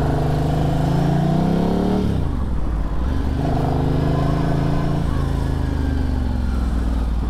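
A Ducati Hypermotard motorcycle rides through traffic, its loud close engine rising in pitch as the rider accelerates, dropping briefly as it comes off the throttle, then climbing again steadily.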